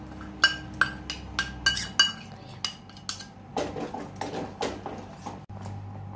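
Ground apple stirred into oatmeal porridge in a pan on the stove: a spoon strikes the pan with sharp, evenly spaced clinks, then shifts to softer, denser scraping and stirring, close up.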